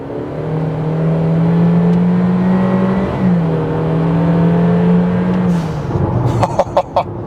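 Engine note from a tuned Honda CR-V two-wheel-drive Touring with a 1.5 turbo, accelerating hard from inside the cabin: a steady rising drone held through two gears with a brief shift break, then easing off. Light clicks and a chime follow.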